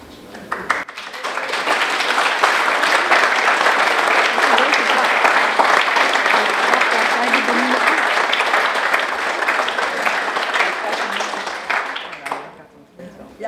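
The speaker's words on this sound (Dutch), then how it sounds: "En toch even een groot applaus." An audience gives a big round of applause for artist Lily van der Stokker as she receives the 12th Wilhelmina Ring, loud sustained clapping that swells in, holds steady and fades out near the end.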